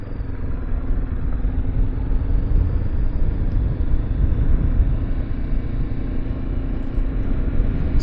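A 2025 Honda NX500 motorcycle rides along an old road, its engine giving a continuous, steady rumble with road and wind noise and no pauses or talk.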